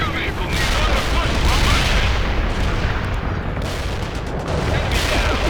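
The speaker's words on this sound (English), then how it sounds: "Fire that missile" Missile launches and explosions in the military strategy game World in Conflict, a dense, continuous barrage of booms and gunfire rumbling loudly throughout with battlefield chatter underneath.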